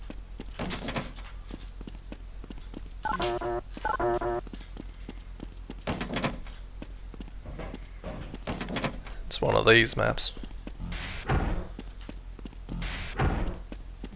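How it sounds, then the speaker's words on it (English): Doors in a video game map open and close with a series of thuds, slams and sliding knocks scattered throughout, heard under someone talking. "Some of these doors make sound."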